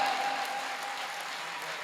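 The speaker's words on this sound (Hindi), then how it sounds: "जोरदार तालियां" A crowd claps for children at a grand religious welcome ceremony for a Jain acharya in Delhi, producing a steady, fairly faint wash of applause that continues evenly throughout.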